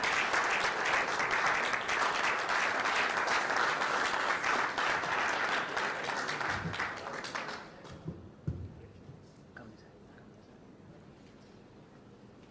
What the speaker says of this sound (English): Let's continue to clap as he joins me up here.